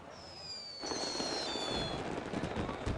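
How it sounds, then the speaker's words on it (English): A barrage of fireworks bursts at the Rio Carnival parade in the Sambadrome, a dense, crackling stream of rapid pops and booms following high whistling launches, loud and continuous amid crowd ambience. "A barrage of fireworks is Mangueira's cue to enter the Sambadrome."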